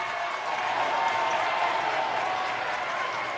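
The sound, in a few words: basketball crowd cheering after a turnover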